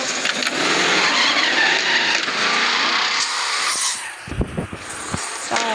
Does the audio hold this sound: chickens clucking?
no